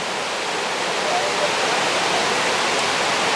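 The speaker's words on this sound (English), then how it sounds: "Every lock has a bypass stream so that when the lock gates are closed, the water can continue to flow around the lock chamber." Water rushes steadily through the bypass stream beside Lock 32 on the Erie Canal, a dense, even, close hiss and roar that stays constant throughout.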